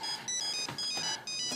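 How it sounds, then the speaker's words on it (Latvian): An old telephone plays an electronic ringtone, a bright repeating melodic tone in short phrases with brief gaps, moderately quiet and with no talk over it. "Nu, kādam zvana telefons?"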